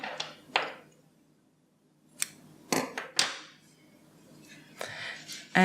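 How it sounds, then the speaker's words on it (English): Scissors snipping yarn during a knitting session: several short, crisp metallic clicks and snips scattered across a quiet background, close and soft. "You want to cut off the yarn"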